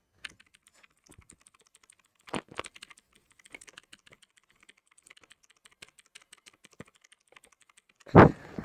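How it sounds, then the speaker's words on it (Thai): Computer keyboard G key pressed repeatedly: scattered sharp plastic clicks and a couple of clustered taps, close and clear, ending in a louder thump. "เดี๋ยวผมจะให้ ทุกคนฟังเสียงตัว G บนปุ่ม คีย์บอร์ด ผมใหม่"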